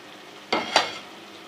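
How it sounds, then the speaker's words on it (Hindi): A short scrape and stir through spices frying in oil for aloo gobhi, two quick bursts of sizzle and utensil contact against a quiet background, close and brief, with no voices. "और इसको बहुत ही अच्छा सा भूनेंगे ताकि इसका ऑयल भी निकल जाए और मसाले जो है वो भून जाए"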